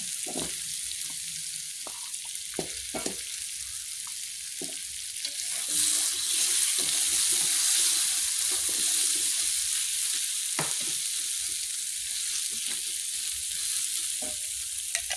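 Potatoes fry and get stirred in a pan with bay leaves and galangal for sayur lodeh, a steady soft sizzle punctuated by frequent scraping and clacking of the spoon against the pan.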